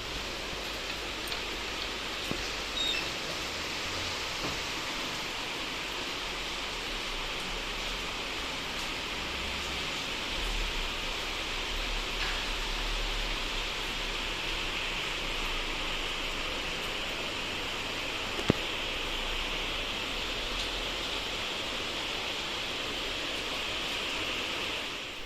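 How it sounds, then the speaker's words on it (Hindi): Heavy torrential monsoon rain falls outside in Dehradun, a dense, constant wash of hiss lasting throughout, with a few faint knocks and no talk. "बाहर आपने बारिश देख ली है, बहुत मूसलाधार बारिश हुई है, बहुत ज़्यादा।"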